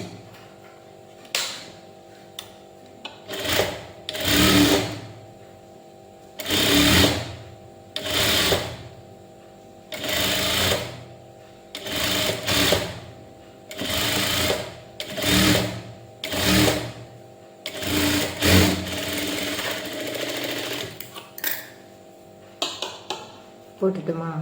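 A sewing machine stitches a puff sleeve seam a quarter inch from the edge, running in repeated short bursts of rapid whirring with brief pauses in between, close and clear.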